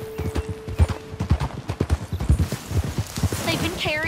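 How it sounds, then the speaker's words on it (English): A horse gallops in the Western game Red Dead Redemption 2, rapid rhythmic hoofbeats thudding close and loud, with a neigh near the end and a voice speaking over it. "Get on your horse."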